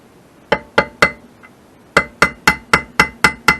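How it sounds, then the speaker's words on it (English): A hammer taps an aluminum carburetor from a 1991 Arctic Cat 340 held in a vise, about eleven sharp metallic knocks in two bursts, the second a steady rhythmic run, close and clear. "we might have to put it in the vise and give that a tap"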